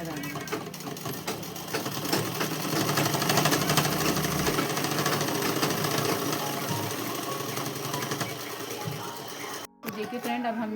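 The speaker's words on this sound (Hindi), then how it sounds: "फिर यहाँ से हम नीचे की तरफ सिलाई लगाएंगे।" Sewing machine stitching a dress, a fast steady mechanical whirr that runs continuously for several seconds, briefly cuts out, then resumes, with a voice talking over it.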